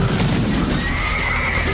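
A horse gives a long, shrill whinny that wavers and holds through the whole stretch, loud and close, set against a dense rumbling background.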